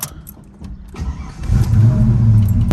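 Orange car with a worn suspension and no sway bars starts up, a few cranking sputters catching into a loud, close, steady engine run.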